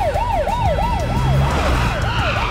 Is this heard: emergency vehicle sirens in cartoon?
yes